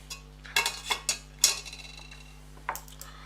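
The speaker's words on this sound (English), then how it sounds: "I'll just dump out all of that into the pot." Chicken stock contents are dumped from one pot into another, heard as a handful of close metallic clinks, scrapes and clatters of cookware spaced irregularly over a steady low hum.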